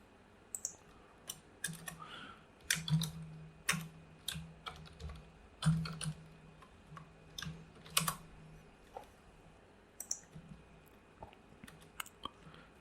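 Code is typed on a computer keyboard in irregular bursts of close, crisp key clicks, with short pauses between runs and no voices.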